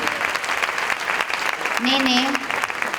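Theatre audience applauding during a Barcelona variety stage revue, steady dense clapping throughout, with a performer's voice briefly speaking over it near the end.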